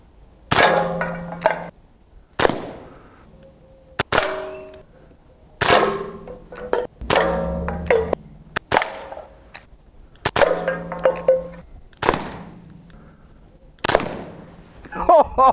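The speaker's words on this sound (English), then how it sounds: "I'm going to use the semi-auto function on the Crosman 357. I'm just going to keep pulling the trigger." A Crosman 357 CO2 air pistol fires semi-automatically at targets, each sharp crack followed by a metallic ring. Eleven or so shots come at uneven intervals roughly a second or two apart, close and loud.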